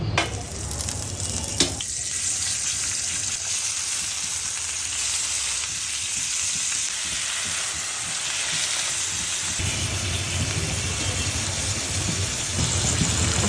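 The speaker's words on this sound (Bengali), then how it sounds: "আস্তে আস্তে ভাজতে হবে।" Chicken jafrani kababs on sticks fry slowly in a pan, giving a steady, close sizzle that runs unbroken for the whole stretch without any talk.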